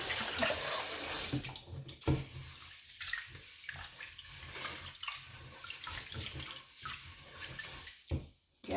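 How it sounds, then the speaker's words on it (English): Tap water runs steadily into a pot of rice being rinsed for a rice cooker, a continuous splashing gush with brief shifts as the grains are swirled and the stream is interrupted. "and then you pour away the water."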